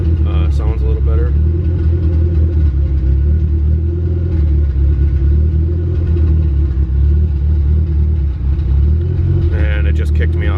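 A Honda car engine runs at a steady low idle rumble after extra fuel is added in a tune, loud and continuous, with a voice briefly at the start and end.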